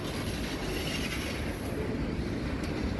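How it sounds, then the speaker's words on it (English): An eastbound manifest freight train rolls along the Crescent Sub, its loud, steady rumble of wagons and wheels on rail filling the scene continuously without pause. "here comes our eastbound on the Crescent Sub behind this manifest train"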